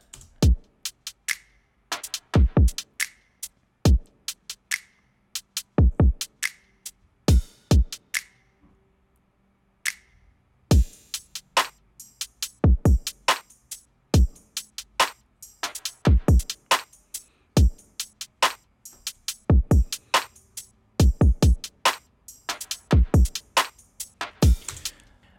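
Roland TR-808 and TR-909 style drum beat built from Logic's drum sounds, with punchy kicks and sharp hits in a repeating groove, loud and unaccompanied, pausing briefly before starting again.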